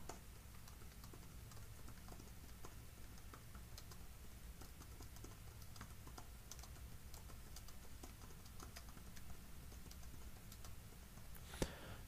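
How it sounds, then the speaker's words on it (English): Steady, continuous typing on a computer keyboard, a soft patter of keystrokes at a quiet level with no talking, and one sharper click near the end. "We just go ahead and start typing in the page text here."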